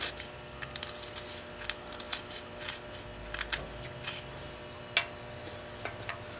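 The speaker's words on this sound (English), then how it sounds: "I just take a carving tool, cut that bottom off" A carving tool cuts the bottom off a small turned wooden box. Sharp scraping clicks come close up in an irregular series, with one stronger snap near the end, and there is no talk.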